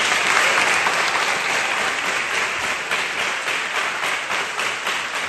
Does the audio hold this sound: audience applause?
yes